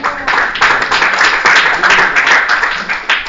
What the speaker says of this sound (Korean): 이게 조금 박수를 쳐야 되는데, 암만 꼰대라도. 박수 안 칩니까?